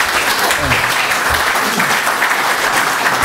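An audience applauds continuously and evenly after a talk on the blue economy and sustainability, a dense steady wash of clapping with a few faint voices mixed in.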